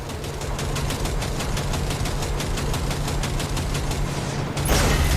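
Steady rapid automatic gunfire aimed at a train coupler in Cyberpunk 2077, a loud continuous stream of shots over a low rumbling engine drone, ending in a sharp burst of impact.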